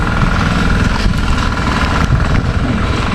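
A water pump motor beside a banana grove, droning loud, close and continuous with a steady low rumble and no break.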